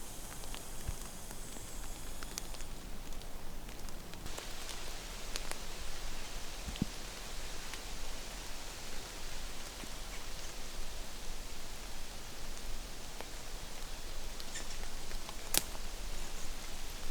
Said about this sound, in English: Not good for the camera to be out here in this much rain.